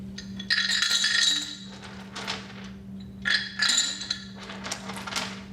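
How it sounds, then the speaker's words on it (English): River rocks dropped one after another into a clear glass vase, giving bright, close clinks and knocks in irregular bursts, with a low steady hum underneath. "I'll take this river rock and I'll put it inside the clear vase and essentially fill it up."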